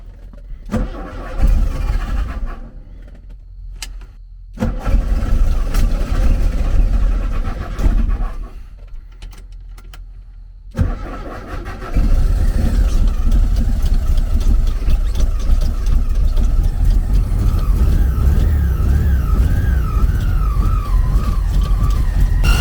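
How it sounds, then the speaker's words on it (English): An air-cooled VW engine, its carburetor primed from a squirt bottle, cranks in several bursts with pauses between, then catches and settles into a loud, steady, rattling run. "Once it was running, it was making a terrible noise"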